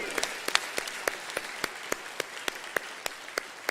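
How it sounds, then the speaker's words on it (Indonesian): Applause from an audience at an Indonesian political event with President Jokowi: sparse, distinct claps at a fairly even pace, quiet and somewhat distant, with faint voices underneath. "Tepuk tangan bro Dasis, tepuk tangan, terima kasih."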